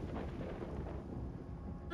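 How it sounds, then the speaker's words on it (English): Thunder from a storm in the video game Voices of the Void rolls as a low, continuous rumble over steady rain noise, holding even loudness with a slight swell at the end. "Wow, this is a big storm."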